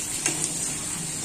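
Potatoes fry in a pan with salt and turmeric, giving a steady, close sizzle with a couple of faint stirring clinks.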